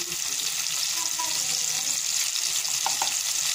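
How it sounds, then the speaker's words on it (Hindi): Tomatoes sprinkled with salt frying in a pan for aloo matar chicken, a dense continuous sizzle with faint scraping and stirring sounds throughout. "टमाटर के अंदर थोड़ा सा नमक डाल के वो टमाटर को नरम होने के लिए छोड़ देंगे।"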